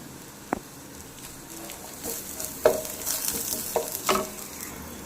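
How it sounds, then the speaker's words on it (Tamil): Garlic and curry leaves frying in a pan for Tamil-style garlic rice, stirred with a spoon: a steady soft sizzle with a few scraping stir strokes and clinks, close and alone with no talk. "இப்போ இது கூட நம்ம எடுத்து வச்சுருக்கிற ஒரு பத்து கருவேப்பிலை ஆட் பண்ணி நல்லா கிளறிக்கலாம்"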